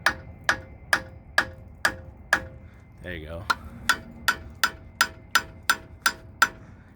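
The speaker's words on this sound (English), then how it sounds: "the best way I found is you just tap them with a hammer." Steel hammer tapping cone washers out of a Toyota locking hub on a T100 or 80s–90s Toyota truck: about a dozen sharp, evenly spaced metallic taps, close and clear, pausing briefly while a voice speaks.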